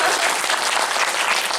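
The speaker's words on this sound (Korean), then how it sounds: "이런 박수는 또 처음이네요." A cinema audience at a Bucheon International Fantastic Film Festival guest talk in a CGV theater claps together, a brief, thick burst of many hands held at a steady, fairly loud level.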